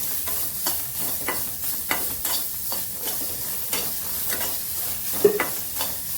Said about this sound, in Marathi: कांदा पण छान ते परतून घेऊया